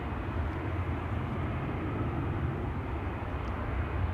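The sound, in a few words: Sky Express airliner approaching Schiphol Airport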